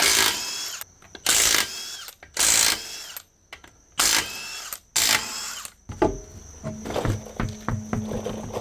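Impact gun on the wheel of a 2003 Nissan Maxima fires in loud repeated bursts of rattling whirr separated by pauses, followed by metallic clinks of nuts and tools close by.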